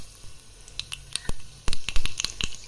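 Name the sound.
mustard seeds and cumin added to hot oil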